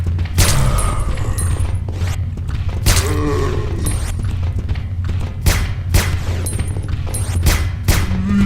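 Gunfire hits zombies in Resident Evil Dead Aim, repeated sharp shots and heavy thuds at irregular intervals over loud game ambience and music.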